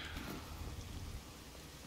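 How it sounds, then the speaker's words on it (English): Rain in the video game The Division 2: a steady, dense wash of rainfall with a low rumble underneath, even and unbroken throughout. "Oh, it's raining out."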